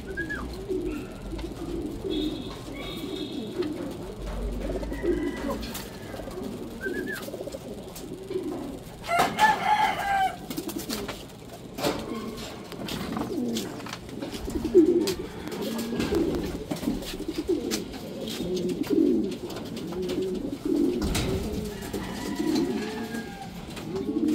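Racing pigeons coo repeatedly in soft, throaty bursts over a steady outdoor background, with occasional rustles and flutters nearby. No one speaks.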